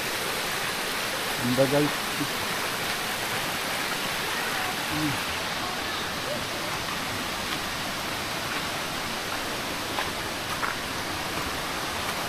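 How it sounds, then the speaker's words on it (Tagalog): A small waterfall in Palawan pours in a steady, loud rush of falling water that fills the whole scene, with a person talking briefly over it. "Guys, ah, may mini falls din dito."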